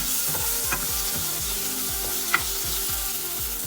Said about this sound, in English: Now we will add the tomato. Now saute this well for some time.